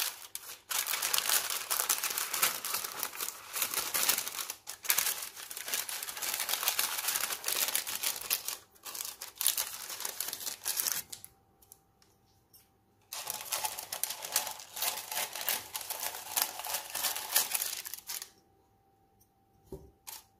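Parchment baking paper cut for lining a banana bread tin: a close, steady crisp rasping runs for long stretches, stops briefly, then resumes, with no talking.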